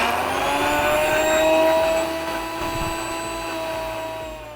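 A Sujata mixer grinder purees whole, unchopped, unboiled tomatoes, its motor whining loud and close with a steady pitch that swells and eases slightly as the blades churn.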